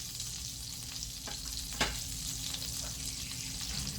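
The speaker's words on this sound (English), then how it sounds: "we're going to do what we call saute the shrimp in that hot butter and oil" Shrimp sautéing in hot butter and oil with oregano, basil, onion and minced garlic, a constant close hiss of frying with a couple of soft stirring scrapes and one sharper clink.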